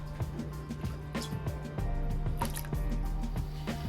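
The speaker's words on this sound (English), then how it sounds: "place your potatoes in cold water, not warm, not hot," Cut potatoes go into a pot of cold water with repeated soft plops and wet squishes, a series of close drips and splashes at an uneven pace.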